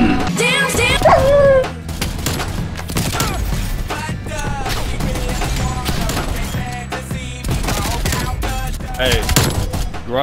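Dogs bark and yelp repeatedly in a Call of Duty match, mixed with dense gunfire bursts and game noise, loud and busy throughout with some voice chat underneath.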